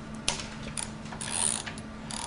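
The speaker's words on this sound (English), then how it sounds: "This one's ratcheting also, whereas that one's fixed." A ratcheting precision torque wrench gives a few sharp, close mechanical clicks and a brief ratcheting whirr in a quiet space.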